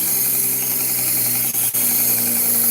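Belt sander grinding a knife blade with a mild, non-aggressive abrasive belt, a steady close whine and hum running throughout with two brief dips near the middle, and no talking.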